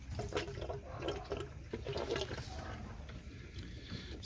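Water drains and splashes out of a Rinnai tankless water heater during a flush, a faint, steady run of liquid with a little dripping.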